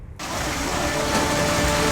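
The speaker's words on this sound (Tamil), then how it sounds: "பல்வேறு மாவட்டங்களில் பெய்து வரும் கனமழையால் வெள்ளப்பெருக்கு ஏற்பட்டுள்ளது" Heavy monsoon rain pours down during flooding, a loud dense continuous hiss that starts abruptly and stays steady and close throughout.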